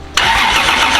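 A Toyota 2JZ engine with its timing off cranks and catches in a sudden loud, rough burst up close, holding a harsh, raspy roar through the rest of the moment with no talking.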